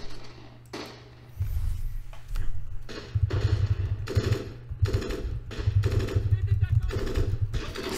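Rapid gunfire and explosive bursts from the Close Combat wargame in a multiplayer battle, a dense run of sharp shots and rattling volleys that sets in after a quiet opening, loud and continuous, with someone talking over it.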